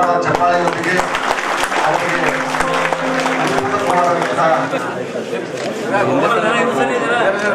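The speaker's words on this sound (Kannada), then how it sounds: "ಜೋರಾದ ಚಪ್ಪಾಳೆಯೊಂದಿಗೆ" Loud, sustained applause from an audience at a village award and felicitation ceremony, with crowd chatter and voices mixed in throughout.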